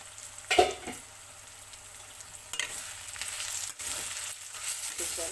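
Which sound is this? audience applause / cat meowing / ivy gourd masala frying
ivy gourd masala frying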